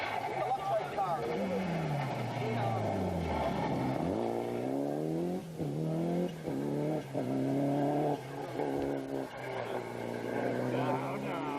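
A rally car at the 1995 Cork 20 Rally races past, its engine howling and rising through repeated gear changes with rapid pitch sweeps, loud and close over crowd noise and voices talking.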